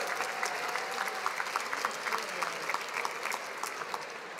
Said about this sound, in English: Let's give a round of applause to the Master of Nonprofit Leadership and Management graduates